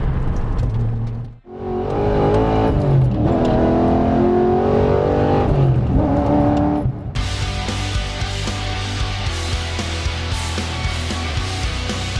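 A Nissan Skyline GT-R fitted with a UniClutch quad-plate clutch is driven, its engine revving up through gears with rising and falling whine, a brief dip at a shift, then steady cabin drone.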